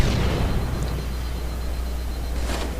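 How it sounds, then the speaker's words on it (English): A grenade goes off in a multiplayer shooter game, a loud, sustained low rumbling blast with a few crackling bursts, heard close and without talk. "His grenade here stopped me full on."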